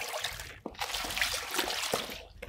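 Hot water at about 80 degrees pours and trickles steadily over esparto olive-press mats during cleaning, a faint, close splashing flow with a few small drips.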